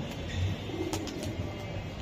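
Racing pigeons from a loft cooing softly, a low murmuring coo repeating under a steady background hum, with no voices.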